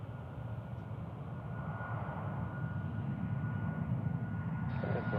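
A steady low roar from an aircraft engine taxiing at Tucson International Airport, continuous and fairly loud, swelling slightly over time with a faint higher whine near the end.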